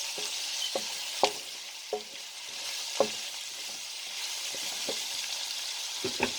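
Onions and red peppers frying with smoked chicken give a steady close sizzle, broken by several sharp spatula clicks and stirring scrapes at irregular intervals, with no voices.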